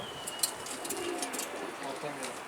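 A pigeon coos softly over steady outdoor background noise, the calls low and somewhat distant.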